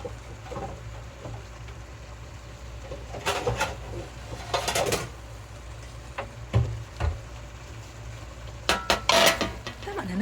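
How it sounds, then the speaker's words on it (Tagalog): A pot of dinuguan is stirred and covered: scattered metallic clinks and scrapes of a ladle against the pot, followed by a clattering lid, close by over faint background hum, with a dove cooing in the distance. "Haluin, tapos takpan."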